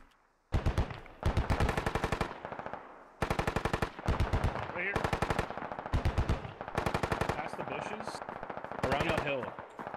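Rapid automatic gunfire in the military shooter game Squad, long bursts of machine-gun fire with short pauses, loud and close, continuing for most of the stretch with faint voices underneath.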